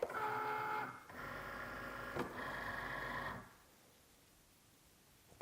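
A Cricut Maker with a deep point blade cuts tooling leather, giving a close mechanical whirring hum with tonal motor whine, broken by brief pauses and a clunk, before it drops to quiet near the end.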